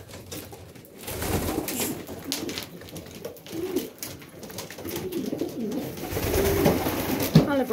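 Pigeons cooing in a loft at morning feeding time, soft overlapping coos and low burbling rising and falling steadily throughout, fairly close, with faint rustling and no clear talk.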